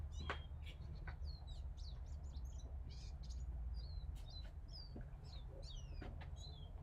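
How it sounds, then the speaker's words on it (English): Outdoor bird song: many short, high chirps and whistled calls at a moderate distance over a steady low background rumble, with no voices. "A lot of nice bird song out here."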